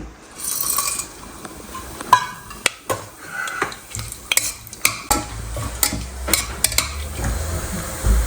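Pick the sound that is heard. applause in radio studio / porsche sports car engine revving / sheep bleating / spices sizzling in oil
spices sizzling in oil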